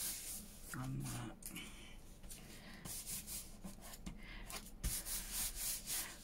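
A hand rubbing over glued paper on a collage board, quiet soft brushing and scuffing strokes in irregular bursts, close up with faint background tones.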